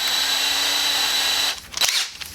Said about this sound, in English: I'm already annoyed enough to be doing this with a hand drill and not a drill press